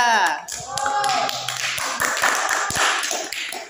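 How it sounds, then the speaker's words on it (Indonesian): A class of madrasah students claps for a group that has just presented, the clapping loud and steady across the whole moment, with a voice speaking over the start. "Beri tepuk tangan untuk kelompok 3"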